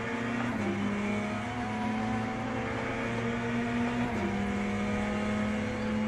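LMP2 prototype race car engine in the Le Mans Ultimate racing game, a steady, loud, continuous drone with brief pitch shifts as gears change, heard alone without talk.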